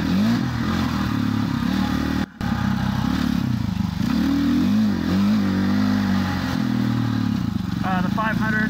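A KTM 500 EXC dirt bike from 2017 rides desert single track near Marana, Arizona, its close engine droning continuously with rising and falling revs through turns.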